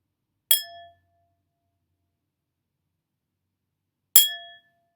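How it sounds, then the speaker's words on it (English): A glass holding water is tapped twice, about three and a half seconds apart, and each strike gives a bright, clean ring that fades quickly, close and alone in silence. "Now, when I tap the glass, that should cause the glass to shake, vibrate"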